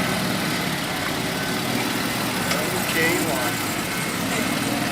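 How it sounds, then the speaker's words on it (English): Rat rod car engine with a custom exhaust setup idles at a car meet, a steady, dense rumble with no revs, under people talking nearby. "Interesting exhaust setup because rat rod."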